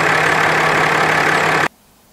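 The 6.7-liter inline-six diesel engine of a 2018 Ram 2500 pickup runs at a steady idle, a loud, even drone with a low hum, then cuts off abruptly into near silence.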